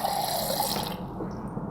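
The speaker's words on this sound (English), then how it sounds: "I pour water in it" Water pours into a glass beaker in a steady splashing stream for about a second, then stops and leaves a faint trickle.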